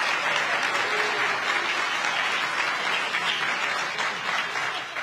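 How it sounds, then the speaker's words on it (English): Sustained applause from a church-hall audience at a university town hall, steady dense clapping filling the whole stretch at a fairly loud, even level. "Now y'all can clap."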